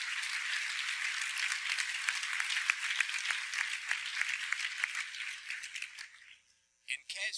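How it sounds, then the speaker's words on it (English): A conference audience gives the lined-up presenters a sustained round of crowd applause, moderately distant and even, tapering off near the end before a few final claps. "could you all please join me in giving a round of applause for the masochistic presenters who are all lined up here"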